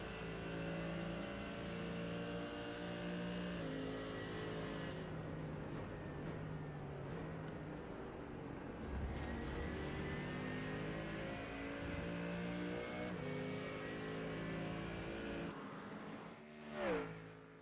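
A Porsche GT3 race car engine in the iRacing sim roars steadily and loud among other race cars, with a sharp rising whine as one passes close near the end.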